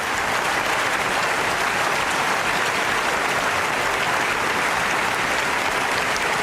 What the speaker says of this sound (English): This one really deserves a longer length of applause.